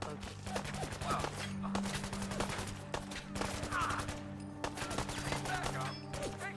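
Sustained video-game gunfire from Fallout 4 crackles in dense, rapid bursts, near and loud, over a steady low tonal backdrop with occasional voices.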